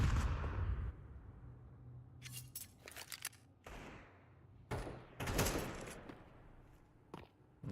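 Desert Eagle pistol shots crack in bursts during a professional Counter-Strike match on the Nuke map, mixed with other gunfire and thuds in the game, no voices.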